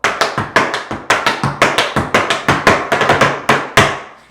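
Rapid tap shoe cramp rolls on a hard floor, quick rolling clusters of heel and toe beats in a steady syncopated rhythm, close and loud.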